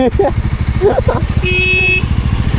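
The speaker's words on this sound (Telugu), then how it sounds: "అందరం వచ్చి ఆగినాం, హారన్ కొడుతున్నాం ఆడొచ్చి గేట్ తీయాలని." A vehicle horn honks in a steady blast of about half a second at a closed gate amid a running engine and traffic noise, with voices talking over it.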